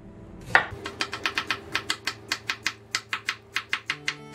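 A knife chops radish into thin julienne strips on a cutting board, giving a steady run of sharp, evenly spaced knocks, close and clear, with no talk.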